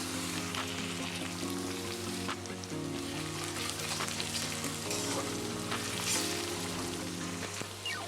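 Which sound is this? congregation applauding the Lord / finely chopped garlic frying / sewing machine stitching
finely chopped garlic frying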